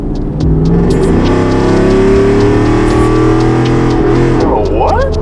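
A Ford F-150 pickup's engine idles loud and close, not from a cold start, its Borla Atak exhaust with catted Y-pipe rumbling and rising into a rev near the end.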